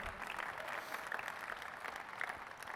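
Audience applause at a ConnectWise IT Nation 2023 opening keynote, a steady wash of clapping from a large crowd held at a fairly even level throughout, with no cheering standing out.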